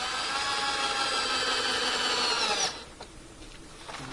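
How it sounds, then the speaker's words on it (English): Cordless drill driving screws into a wooden frame for a clamp board, a loud steady whine held for over two seconds that cuts off abruptly, then faint handling clatter. "these cordless drills are quite handy for doing a lot of things like that"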